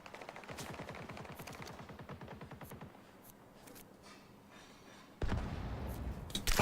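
Rapid automatic gunfire from a weapon fired while sprinting in the video game The Finals, a fast stuttering burst up close for a few seconds, then quieter game ambience and a sudden loud blast near the end.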